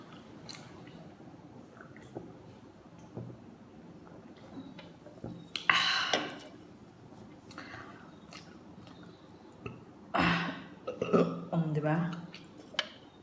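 A loud burp after drinking Coke, heard close among mealtime mouth noises, with a couple of stronger bursts near the end.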